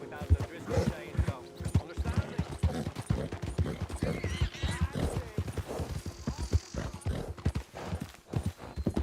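Horse hooves clip-clopping with a whinny in the Red Dead Redemption 2 video game, heard under steady talking.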